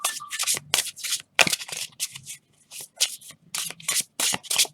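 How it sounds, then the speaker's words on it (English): Overhand shuffling of a tarot deck: close, papery rustling bursts in an uneven rhythm, each pass a quick soft flutter followed by brief pauses. "It makes such a beautiful sound as well when it shuffles."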